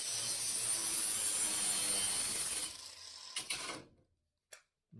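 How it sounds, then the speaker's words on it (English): Abrasive 60 or 40 grit disc on a grinder sanding down a weld on the cargo floor of a VW T2 camper van, a loud steady grinding whine for about three seconds, then a few short scrapes and near silence. "we can polish this, okay? So we get this guy with a 60 grit or 40 grit"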